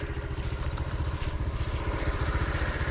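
A Honda CT110 motorcycle fitted with a Lifan engine runs steadily nearby, its small single-cylinder exhaust producing an even, rapid putter with light mechanical clatter and no talking.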